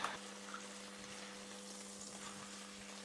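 Lamb skewers frying in hot oil with sliced garlic in a pan, a faint, steady sizzling hiss over a low constant hum, with a small pop near the start.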